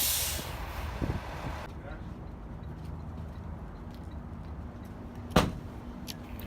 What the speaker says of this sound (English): Don't forget to set the parking brake.